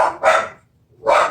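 Two bursts of loud barking from several pet dogs indoors, a short bark followed by a pause and then another sharp bark, with no talking.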